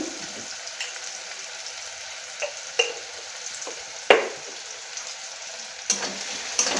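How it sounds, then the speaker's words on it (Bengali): Onions frying in a pan with salt added, a steady sizzle under scraping stirs from a spatula, with a few sharper clacks of the utensil against the pan; close and moderately loud, no talking. "দেখুন পেঁয়াজ আমার লাল লাল করে ভাজা হয়ে গেছে"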